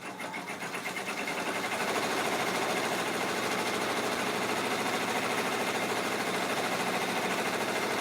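Embroidery machine stitching the last stitches of an in-the-hoop Christmas stocking, a steady, fast mechanical whir with rapid repetitive needle ticking, close and continuous throughout, with no talking.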